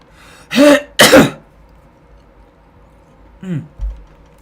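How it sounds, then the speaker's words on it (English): Two sharp throat-clearing bursts close together, then after a pause a softer cough-like clear of the throat, near and alone. "I have to cough."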